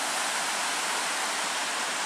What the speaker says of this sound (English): See the river down there,